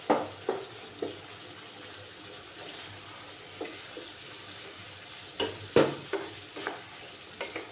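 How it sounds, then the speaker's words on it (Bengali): Mutton masala curry being stir-fried with salt in a pan: a steady low sizzle with scattered scraping stirs and a few sharper spatula clinks, close and alone with no talk. "নুন দিয়ে ভালো করে কষিয়ে নেব।"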